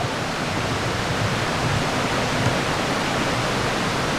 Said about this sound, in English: there's pretty nice water here. running behind us. Beautiful creek